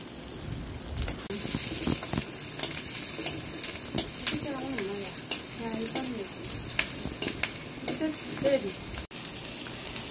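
Chopped onions hit hot mustard oil in a pan during Uttarakhand village home cooking, giving a steady close sizzle with scraping stir strokes, while voices talk briefly in the background.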